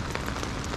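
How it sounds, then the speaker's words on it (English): Rain coming down during crappie fishing, a brief, constant patter and hiss of drops close by with no talking. "This rain ain't hurting them a bit."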